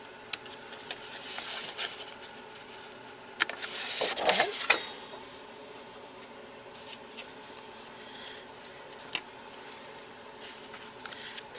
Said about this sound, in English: just use my scissors to snip it out